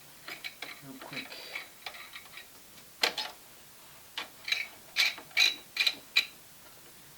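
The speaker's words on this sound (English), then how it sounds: "Just gotta get the screws in" A screw is driven in while a CPU fan is reassembled, giving quiet clusters of close ratcheting clicks and ticks, irregular and soft, with faint background noise between bursts.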